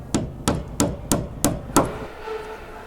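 Six sharp, evenly spaced hammer taps drive small pins into pre-drilled holes in wood on a Horsa glider repair, each close and crisp, followed by a quiet pause.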